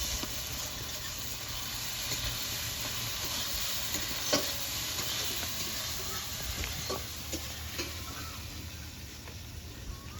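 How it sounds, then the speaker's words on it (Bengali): Fried eggs are stirred into a sizzling spice masala in a pan, giving a continuous close hiss with intermittent spatula scrapes and small crackles. "এরপর ভেজে রাখা ডিমগুলো দিয়ে মশলার সাথে একটু কষিয়ে নেব।"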